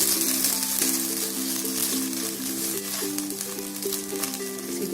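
Uttapam cooking on a hot pan gives off a steady broadband sizzle and fry, continuous and fairly close, with a low background hum and no talking.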